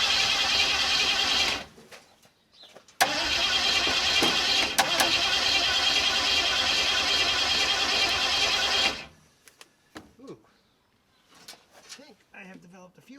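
A car engine cranking and then running loudly during a jump start on a cold start attempt, a steady roar that cuts off, with faint sounds after.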